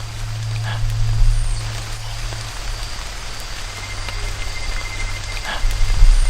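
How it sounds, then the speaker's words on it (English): Torrential rain pours steadily onto Amazon rainforest foliage and surfaces, a constant dense patter with a low hum underneath and occasional louder drips. "Suddenly, torrential rain struck."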